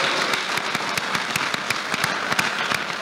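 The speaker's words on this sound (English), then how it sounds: "Please give her a round of applause." Applause from the audience at a university convocation lecture, a dense steady wash of many hands clapping with sharper individual claps poking through, sustained and fairly loud for the whole stretch.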